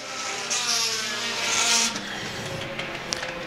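Pure stock race cars lapping Star Speedway with the field stretched out, engines droning steadily at a distance and swelling as cars pass, with faint tire noise.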